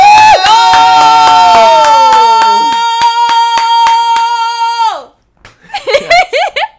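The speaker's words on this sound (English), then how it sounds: "Clapping" Steady, rhythmic hand clapping rings out over a sustained tonal voice, then fades as excited voices chatter briefly.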